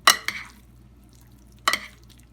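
German potato salad being stirred in a pan, with two quick scraping strokes close together, a pause, then one more short scrape, each crisp and close over a faint background.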